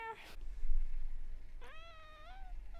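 A cat gives a single drawn-out meow in the last second, rising then gliding down, heard once above a low steady background rumble after a brief noisy rustle at the start.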